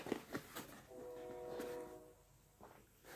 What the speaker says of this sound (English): Trains are pretty loud tonight